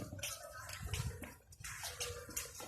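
Water running steadily from a tap in the background, a faint rushing wash with some clatter and knocks mixed in, heard from a short distance indoors.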